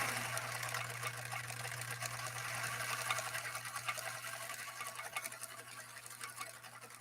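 A Viking 21E sewing machine runs steadily nearby, its fast even stitching chatter carried over a constant low motor hum with no pauses.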